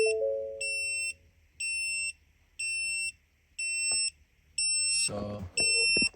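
A Ford Ranger 3.2 low coolant warning alarm sounds in a series of six evenly spaced high electronic beeps, each about half a second long, fairly loud and close, with a voice briefly speaking near the end.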